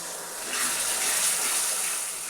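Hot water pours steadily in a close, loud gush for a couple of seconds, a bright continuous splash with nothing else over it.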